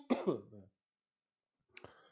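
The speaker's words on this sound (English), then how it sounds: "You ever stretch so hard it makes you cough?" A short burst of coughing and throat clearing after a hard stretch, close and loud, then silence, followed by a fainter second cough.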